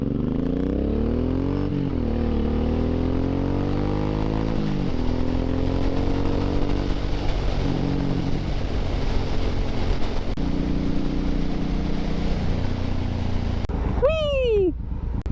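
A Suzuki M109R motorcycle accelerates hard, its engine note climbing through gear changes with wind roar throughout; a rider talks and a high whistle-like sound rises near the end.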